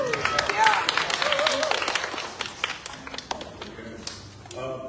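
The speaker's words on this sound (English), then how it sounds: "Another big clap for Andy Sermon." A church congregation claps during a Sunday service, with a burst of uneven, scattered claps mixed with voices and crowd murmur that thins out toward the end.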